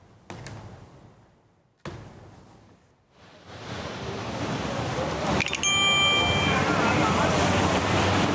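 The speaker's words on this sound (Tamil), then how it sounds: "குடிநீர் குழாயில் உடைப்பு ஏற்பட்டு பல லட்சம் லிட்டர் குடிநீர் சாலையில் வீணாக பெருக்கெடுத்து ஓடியது" Drinking water gushes from a burst pipe onto a road in Madurai, a broad rushing roar that swells steadily louder and continues unbroken, with a couple of brief high electronic tones over it.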